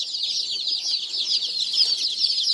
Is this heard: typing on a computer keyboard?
no